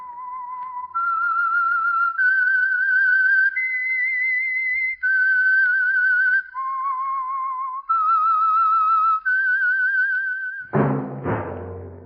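A solo whistled tune, clear sustained notes moving up and down in a slow melody, ending with a brief burst of noise.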